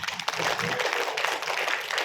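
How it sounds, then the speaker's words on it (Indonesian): Audience in a personal-development seminar hall applauding steadily, a dense continuous wash of clapping with no break, fairly close and filling the room throughout. "Tepuk tangan terus."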